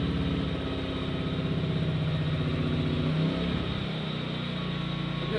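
A Kings 2KVA pure sine wave inverter generator engine catches after a pull start and runs at a steady, loud, even hum, with a brief dip in pitch near the end. Nobody speaks.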